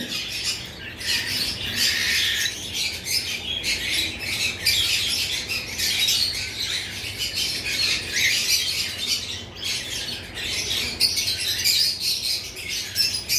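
Several caged pet birds, one of them lutino, squawk and chirp continuously and loudly, close by, in a dense overlapping chatter.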